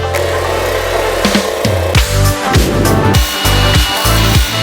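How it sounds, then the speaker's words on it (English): A 9-inch angle grinder works the scale off steel surfaces being prepared for welding a Damascus billet. It is loud and close, and its motor whine swoops up and down repeatedly as the tool bites and eases off the metal. "you're gonna grind the two surfaces so there's no scale"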